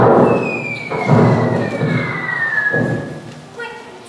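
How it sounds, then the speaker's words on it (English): Stage cannon fire sound effects in a youth theatre production of Peter Pan Jr. A few deep, booming thuds roll out with a descending whistle overhead, and a crowd noise murmurs underneath. "Captain Hook and his pirates shooting cannons"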